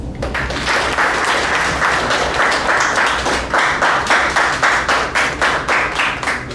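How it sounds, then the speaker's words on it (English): An audience at the close of a Toastmasters meeting applauds the role players and speakers, many hands clapping in a loud, continuous wash with individual claps standing out near the end. "Let us all applaud for all the role players and all the speakers"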